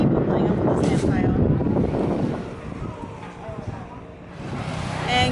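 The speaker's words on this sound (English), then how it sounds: "it's kind of windy out here." Wind gusting at an outdoor sandy spot on a visa border run to Thailand, a steady broadband rush buffeting the microphone, swelling and easing, with people talking faintly in the background.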